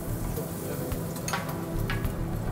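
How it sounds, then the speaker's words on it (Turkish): Meat sizzling in a pan of butter and olive oil, a steady dense hiss with a few brief ticks and stirring clicks, fairly close and continuous. "biz bu eti kavurarak yapacağız"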